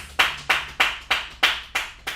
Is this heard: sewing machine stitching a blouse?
no